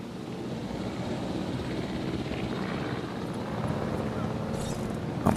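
A helicopter flies in the Jurassic World video game, giving a steady, close rotor and engine drone that stays even for several seconds, alone, with no talking.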